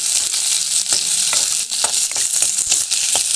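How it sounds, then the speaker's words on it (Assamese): Soya chunks fry in a hot pan, a loud, continuous sizzle with scattered sharp pops and the scrape of occasional stirring. "চয়াবিনখিনি এতিয়া ৰঙচুৱা হোৱালৈকে ফ্ৰাই কৰি থাকিম"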